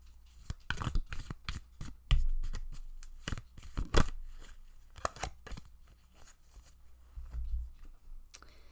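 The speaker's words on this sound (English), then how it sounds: "Let's grab some cards." Tarot cards shuffled and drawn by hand, close and quiet, with crisp slaps, riffles and soft scrapes coming in irregular bursts and short pauses, no voices.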